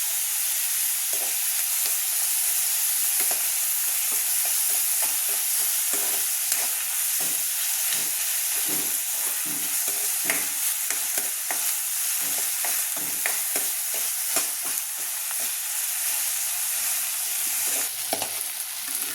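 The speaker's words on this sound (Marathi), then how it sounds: "आपला टोमॅटो परतून झालेला आहे" Tomatoes sautéing with a pinch of salt in a pan after onions, for a traditional pigeon pea curry, sizzle steadily and fairly loudly, broken by frequent scraping stirs of a spoon throughout, with no talking.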